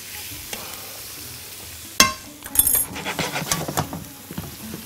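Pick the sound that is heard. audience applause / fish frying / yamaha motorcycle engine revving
fish frying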